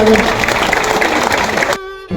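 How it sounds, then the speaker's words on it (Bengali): A rally crowd at an Independence Day march and flag-hoisting in Bhangar claps loudly and continuously, then the applause cuts off abruptly into a brief held tone before resuming faintly. "হাততালি দাও"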